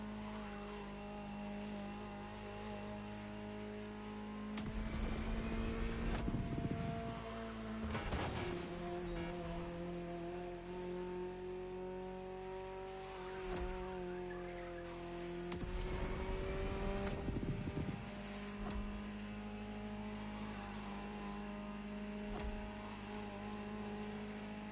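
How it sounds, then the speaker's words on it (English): A Ferrari GTO engine drones steadily while driving in The Crew Motorfest racing game, rising in pitch through gear changes and breaking into loud tire squeals and revving bursts several times, with no voices. "Just listen to the car you're driving."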